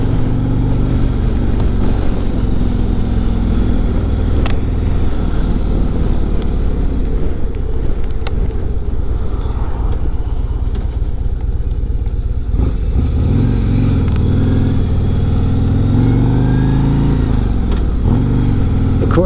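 A heavyweight touring motorcycle with a 117 engine rides along, its steady low engine drone mixed with strong wind rush and road noise, loud and continuous with no talking.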